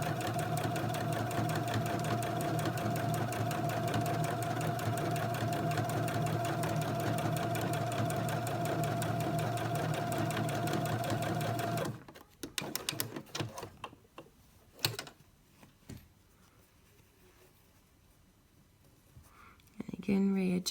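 A sewing machine runs continuously for about twelve seconds stitching a quilt seam through four layers, a steady even whir with a rapid needle beat, then stops, leaving scattered handling clicks and quiet rustling.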